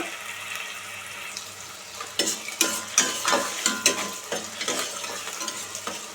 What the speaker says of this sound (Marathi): कांदा आपण चांगलं तेलात परतून घेऊया गुलाबी रंग येईपर्यंत